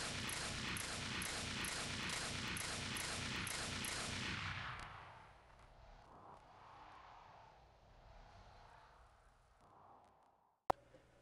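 America's Army rifle fire during a bridge crossing: a rapid string of loud, evenly spaced shots for several seconds, then fading echo and low ambience, with one sharp click near the end.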